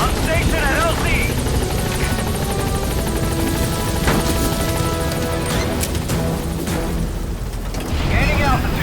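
A military helicopter in Metal Gear Solid V hovers loud and close with a steady rotor roar as it arrives at a landing zone, while radio voices talk over the noise.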